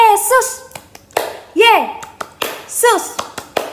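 Children clapping in a Sunday school clap song during an online children's church service, with sharp rhythmic hand claps alternating with children's singing voices.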